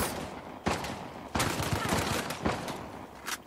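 Several loud bursts of automatic gunfire from the video game Uncharted: The Lost Legacy, each rattling for a moment before short pauses, with crackling combat noise in between.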